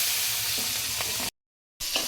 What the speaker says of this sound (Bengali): তো আমি কাঁচা লঙ্কা ফোড়নে দিয়ে দিলাম।